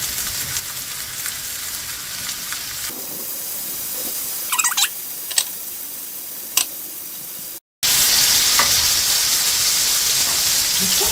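King oyster mushrooms fry in butter in a pan with a steady, close hiss and sizzle, a few sharp pops and clicks, then a brief dropout before the sizzle comes back louder.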